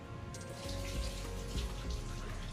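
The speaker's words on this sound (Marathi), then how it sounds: "अशी दोन तीन पाण्यानं मस्त धुवून घ्या हातानं चोळून चोळून छान अशी धुवून घ्या" Chana dal being washed by hand in a bowl of water, with swishing, splashing and dripping close up as the lentils are rubbed, continuous and without any voices.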